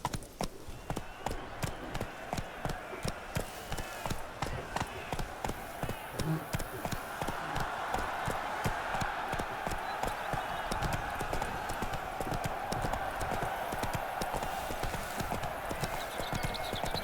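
Roach the horse gallops in The Witcher 3 video game, a fast, evenly repeating clatter of hooves up close throughout, joined later by a soft sustained background tone and occasional voices.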